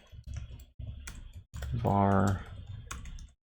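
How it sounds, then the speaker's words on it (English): Computer keyboard keys click in short bursts under a man's speech, with a brief louder tonal sound in the middle. "I really am not typing well today."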